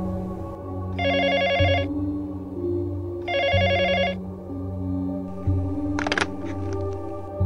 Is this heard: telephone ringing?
yes